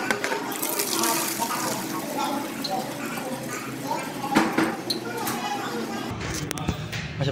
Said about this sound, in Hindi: इधर से पानी भरूँगा पहले।